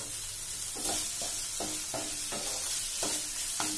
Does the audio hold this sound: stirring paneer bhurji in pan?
yes